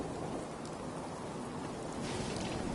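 Rain pours steadily in the video game Fallout 4, a dense, even hiss that fills the whole stretch without pause, with no voices over it.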